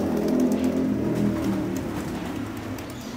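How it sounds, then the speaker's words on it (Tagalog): Pigeons coo and rustle steadily in a home loft as young birds take flight, with a faint low rumble of traffic underneath. "mukhang gusto nang lumipad ng aking mga young bird, mga kalapatids. Yan, lipara na sila mga kalapatids."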